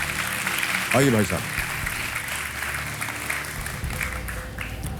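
Studio audience on a TV quiz show keeps applauding a guest's entrance, steady clapping continuing under a man's brief spoken welcome.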